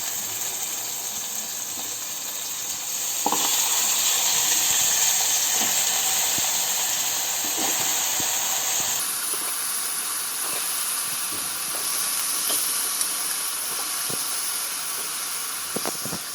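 Brinjals fry with tomatoes in a pan, giving a loud, continuous sizzling hiss that grows fuller a few seconds in, with faint clinks scattered through.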